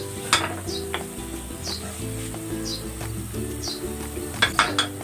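A cooking pot of water with pepper and pechay stems comes to a boil on the stove, giving a steady sizzling bubble with scattered clinks of utensils against the pot nearby.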